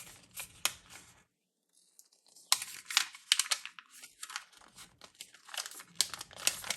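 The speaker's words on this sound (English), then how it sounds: "I'm going to peel the backing away." Craft vinyl backing being slowly peeled away at an angle, giving a series of close crinkling, tearing crackles in bursts with a short quiet pause early on.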